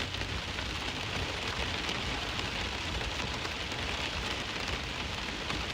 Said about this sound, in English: Also a little bit of hail in this storm too.